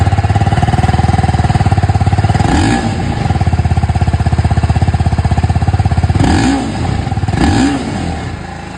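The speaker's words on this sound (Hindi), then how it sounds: "अब अगर मैं आप लोग यहाँ पर दोनों की एग्जॉस्ट साउंड सुनाऊँ तो मैं यहाँ पर स्टार्ट करना चाहूँगा विथ दिस अपाचे RTR 310" A TVS Apache RTR 310 motorcycle idles with a loud, close, steady exhaust pulse, broken by three quick throttle blips that rise and fall before the engine settles back to idle.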